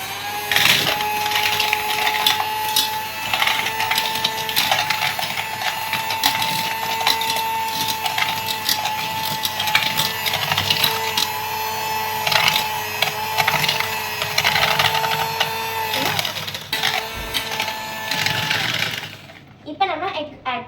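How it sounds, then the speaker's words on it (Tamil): An electric beater whirs steadily through cupcake batter for a long stretch, a high mechanical whine with a rattling grind against the bowl, close up, and a voice occasionally speaks over it before the motor cuts off. "இப்போ நம்ம ஒரு பீட்டரில் பீட் பண்ணலாம்."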